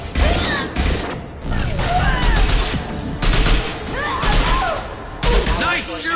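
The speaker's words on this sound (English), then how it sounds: "Nice shooting!" Gunfire in the Mass Effect 2 video game, with bursts of shots and impacts recurring in waves over a steady battle din, while voices and game dialogue talk over it.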